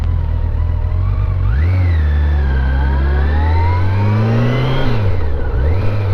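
Yamaha FJR1300 motorcycle engine accelerating while riding, loud continuous revving that rises in pitch, drops briefly at a gear change and climbs again, with constant wind rush.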